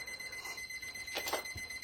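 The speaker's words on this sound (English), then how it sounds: "that's my pill alarm going off" A pill alarm goes off in a room with continuous high-pitched electronic beeping and a brief louder flurry near the middle. It is fairly loud and close.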